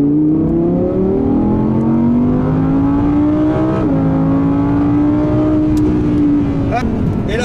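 A 2018 Audi RS4 Avant accelerates hard on the Paul Ricard circuit; the loud, close engine drone climbs steadily in pitch, dips briefly at a gear change, then keeps pulling.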